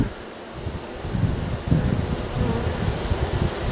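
Honeybees swarm around an open beehive during an inspection, making a dense, steady, low drone that swells slightly partway through, mixed with faint wind-like rustle.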